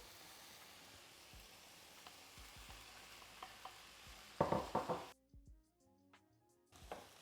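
Chopped tomatoes are stirred into vegetables in a pan: quiet simmering with scattered spoon clicks, then a burst of louder scraping stirs before the sound drops away and returns briefly.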